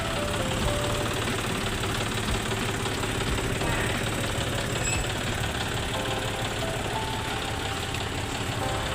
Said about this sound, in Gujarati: હા, ટેસ્ટિંગ માટે જઈ રહ્યું છે ટ્રેક્ટર